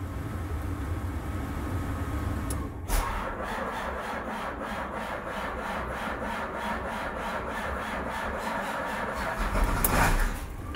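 A cold farm engine cranks and catches, then settles into a steady rhythmic idle with a rough, chugging pulse that swells slightly near the end.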